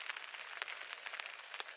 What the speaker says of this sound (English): listen here to the rain falling on top of the tarp